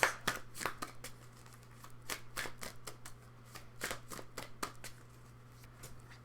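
A deck of tarot cards being shuffled by hand, with quick riffling flicks and soft slaps repeating in an uneven rhythm, close and fairly quiet over a low steady hum.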